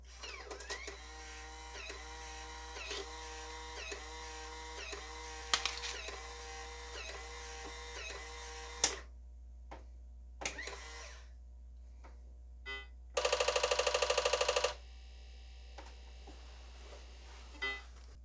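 A cleaned and reassembled 3.5-inch floppy disk drive runs with rapid mechanical stepping and whirring, several bursts and clicks, then a loud sustained buzzing seek near the end over a low electrical hum.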